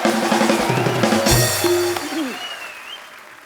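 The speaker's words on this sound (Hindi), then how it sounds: "जोरदार तालियां ऋचा जी के लिए" Studio audience applauding a guest on a Hindi TV comedy talk show, a broad burst of clapping that swells to a peak, then tapers off with some musical tones underneath before fading out.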